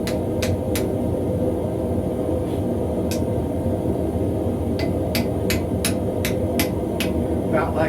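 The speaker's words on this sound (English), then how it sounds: "Just going to tap it in there with the hammer a little bit." A hammer taps steel pieces together for forging a wrapped eye axe in a blacksmith shop: sharp metallic clinks, single and in quick runs, ring out over a steady roar of forge or blower noise.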